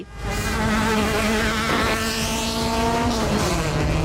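A race car on the Doi Chang hill climb in Thailand, its engine screaming close and loud as it accelerates hard, pitch climbing steadily through the gears with a brief dip near the end.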